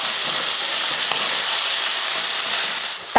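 Tomatoes fry in a pan for mutton biryani, giving a steady, close sizzle and crackle that holds even throughout with no talking.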